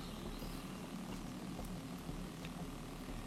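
A Shackleton propeller aircraft taking off in a military strategy video game, a faint, steady droning engine rumble that holds level throughout.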